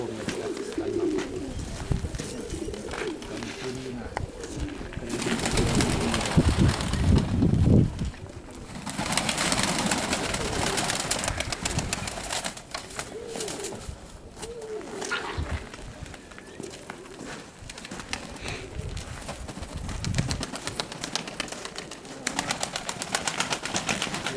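Mykolaiv pigeons coo repeatedly in January, giving soft, close warbling calls with rustling and handling noise. Birds keep up a continuous murmur throughout.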